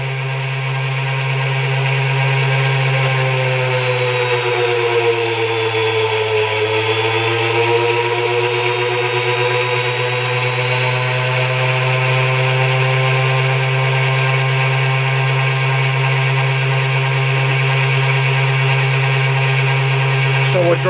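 Small motor spinning at about 7,900 RPM while a torque test is run, a loud, continuous steady whine with a strong hum, briefly dipping in pitch under load before settling again.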